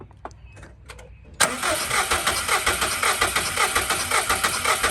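A Subaru WRX STI engine with a failing cylinder cranks over on the starter during a compression test. After a quiet start, a loud, steady, rhythmic whirring churn begins and keeps pulsing evenly close to the microphone.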